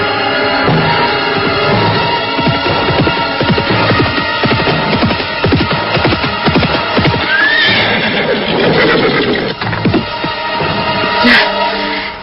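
A horse whinnies loudly over a steady clatter of hooves clip-clopping at night, close and continuous, with no talking.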